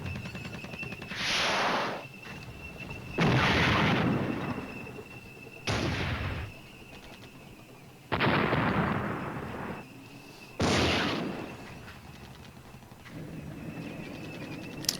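Weapons firing in the video game Flashpoint Germany Reforged: five loud, broadband blasts spaced a few seconds apart, each with a sharp onset and a sustained rumbling decay, over a steady background hum.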